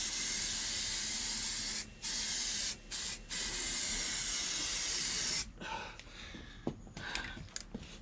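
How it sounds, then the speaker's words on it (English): An aerosol can sprays rust paint onto a campervan sill in steady loud hissing bursts with brief gaps between them, then gives way to quieter irregular hisses and clicks. "When you're finished using an aerosol can, hold it upside down, press the nozzle until it stops coming out."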